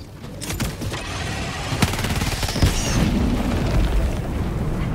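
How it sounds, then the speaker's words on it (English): Booming explosions from an airstrike in the video game Helldivers 2, loud and dense with several sharp bursts and rumbling blasts layered over about five seconds of continuous battle noise. "Why did I fall towards the explosion?"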